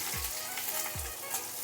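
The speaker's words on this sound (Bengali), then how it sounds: "রসুনটা হালকা একটু ভেজে নিচ্ছি।" Garlic frying lightly in oil in a pan alongside dried red chillies and black cumin makes a dense, continuous sizzle up close, broken by two soft low thumps.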